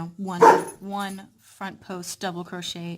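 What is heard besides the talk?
dog barking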